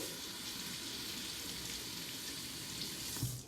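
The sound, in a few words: rinsing a butternut squash under the tap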